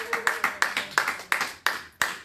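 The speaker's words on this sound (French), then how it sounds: "On acclame pour le roi des rois" A church congregation applauds in steady, evenly spaced claps that land roughly every third of a second, close and moderately loud in a reverberant room.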